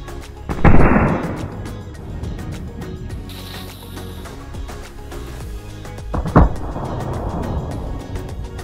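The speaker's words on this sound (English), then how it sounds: "And now the truck itself will explode." A simulated explosion of a plasticine model Kamaz truck, two loud close blasts a few seconds apart, each a sharp burst that decays into crackling debris and rumble.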